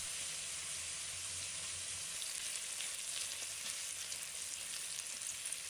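Abalone meat pan-frying in a little oil over medium-low heat, a steady, even sizzle with dense crackle running throughout, close and fairly quiet, with no voices.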